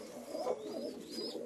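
A domestic pigeon, a red-mottled dove, coos softly in a steady rolling murmur, with a few faint higher chirps over it and no voices.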